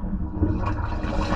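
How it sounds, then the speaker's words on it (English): A toilet flushes right after a clogged drain is cleared of hair and wipes. A steady, close rush of draining water runs throughout. "All right, she flushed."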